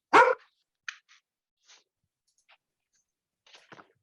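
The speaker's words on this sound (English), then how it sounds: "I thought I heard a puppy." A dog gives one sharp, loud bark in a quiet room, followed by a few faint snuffs and small yips spaced out over the next few seconds.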